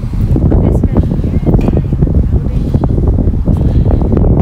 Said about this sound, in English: you might hear the wind here